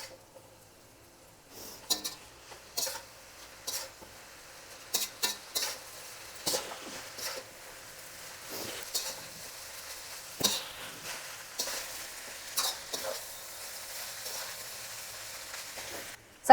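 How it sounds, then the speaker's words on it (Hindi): A utensil stirs and mixes food with chili sauces and salt in a pan, giving repeated scraping clinks and soft sizzling bursts in an irregular rhythm, close and fairly quiet with no voices. "और बस अब सब चीज़ों को हमको फटाफट से मिक्स करना है।"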